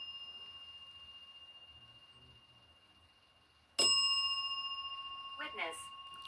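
A bell rings out sharply in a quiet, dim room during a paranormal session in Maine, one bright struck ding with a long sustained ring that slowly fades, followed by a brief faint rattle.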